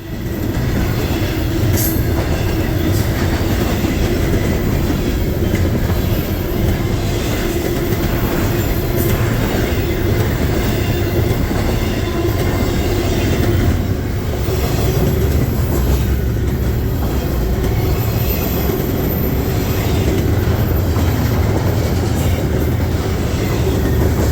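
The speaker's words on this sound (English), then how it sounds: "the train resumed to maximum authorized speed, once again 40 miles per hour" A train runs steadily at 40 miles per hour, a loud continuous rumble of wheels on rail with faint clicking joints and occasional thin squeals, sustained evenly throughout with no voices.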